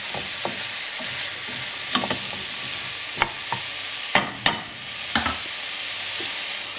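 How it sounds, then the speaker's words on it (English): Carrots and onions cook in a little oil in a pan over very low heat, with a soft steady sizzle and a handful of sharp spoon scrapes and clacks against the pan as the mixture is stirred. "Now I'm going to add it to the carrots and onions. Mix them all together."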